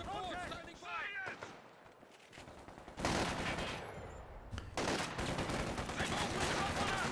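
Bursts of MG42 machine gun fire in a World War II strategy game, loud rattling volleys separated by a quieter stretch, with a commentator talking over the battle.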